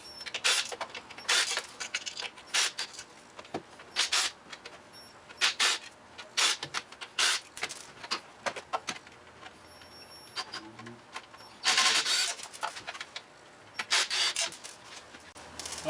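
Torx 30 screws come out of the inner clutch housing of an Arctic Cat Wildcat, quiet bursts of driver whirring and scraping in irregular spurts, close and fairly faint.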